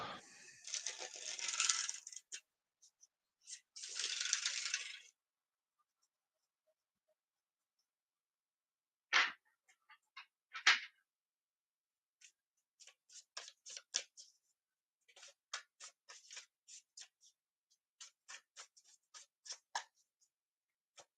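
A deck of playing cards is shuffled in short bursts: two long riffling rushes, then a pause, a couple of sharp snaps and a run of quick light flicks and taps, close and quiet with no talking.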